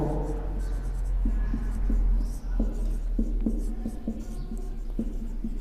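Chalk or a marker taps and scratches on a board in short strokes at a fairly steady pace, over a constant low hum, while a teacher speaks in a classroom setting.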